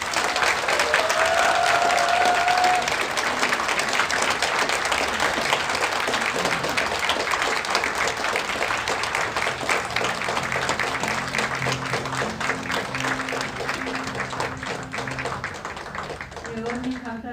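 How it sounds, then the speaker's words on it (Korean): Sustained applause from a forum audience after a keynote speech, a dense, even roar of clapping that holds for well over ten seconds before thinning; a voice briefly speaks near the end. "모두 너무나 뜨거운 박수로 끝내주셨습니다"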